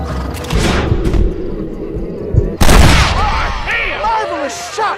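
A loud gunshot cracks out partway through a Red Dead Redemption gunfight, sharp and close, framed by booming game effects and a voice speaking over the action.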